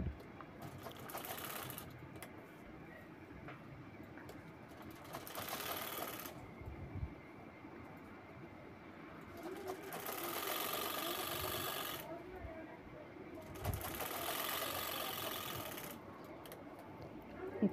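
Sewing machine stitching the zipper side of a handmade bag or purse, running in several bursts of rapid whirring stitches separated by pauses, with someone talking quietly between and over the runs.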